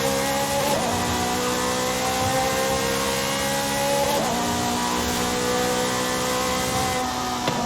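Steady loud engine roar from a Koenigsegg CCGT in Forza Horizon 5, climbing in pitch and dropping sharply at two gear changes before building again, heard alone without talk.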